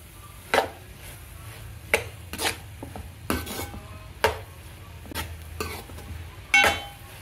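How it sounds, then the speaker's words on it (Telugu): A spoon stirs cooked rice into tomato pulp in a pan, giving repeated scraping and clinking strokes at an uneven rhythm, close and fairly quiet, with no voices. "ఇప్పుడు ఈ రైస్ని అందులో కలిపేసుకుందాం"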